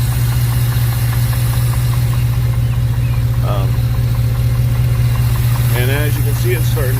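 A 2007 Jeep Commander's 4.7L V8 idles steadily during cooling-system bleeding after a water pump replacement, a constant low hum with a faint rhythmic knock, while a person talks over it.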